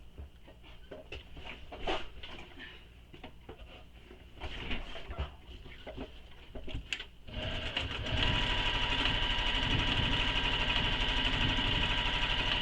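A sewing machine stitches a backpack strap back and forth, steering clear of the strap hardware. After some quieter handling noises it settles into a loud, steady, close-up mechanical whir for the last few seconds.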